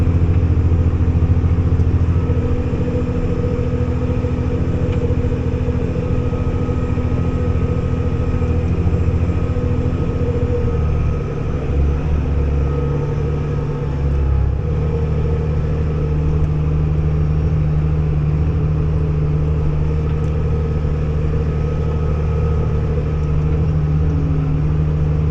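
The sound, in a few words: New Holland TG285 tractor engine running while plowing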